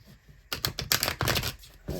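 A quick riffle of tarot cards being shuffled up close, a burst of crisp flapping clicks that stops and then starts again.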